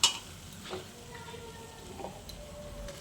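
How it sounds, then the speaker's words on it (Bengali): Spice masala with cumin powder being stirred in hot oil, a faint low sizzle under occasional scraping and clinks of a spoon against the pan, with a sharp knock at the very start. "এবার আমি খুব সুন্দর করে কষাচ্ছি"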